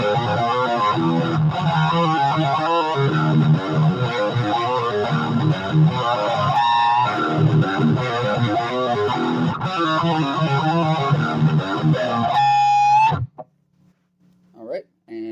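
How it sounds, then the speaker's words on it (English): A Firefly FFJA electric guitar plays a riff through a high-gain distortion channel on the bridge pickup, thick and continuous for about thirteen seconds before stopping with a sustained chord and a few stray notes. "I'm going to run through the distortion channel on both pickups"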